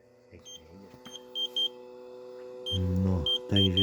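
A meat smoker's thermometer alarm signals that the target temperature has been reached, sounding short high electronic beeps in uneven groups, with a person speaking nearby in the background.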